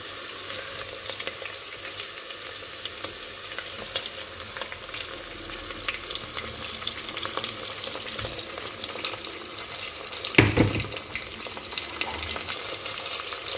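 Steaks sizzling in a pan over fried onion, a continuous crackling fry with occasional stirring and a sharp clatter partway through, moderately loud and close.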